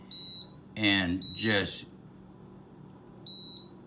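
A Power XL electric pressure cooker set to its saute setting gives short high single-tone beeps, one before someone speaks and another after, each clear and close.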